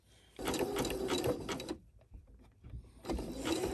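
Sewing machine zigzag-stitching a quilt square, two loud bursts of fast mechanical whirring separated by a quiet pause while the needle rests down in the fabric.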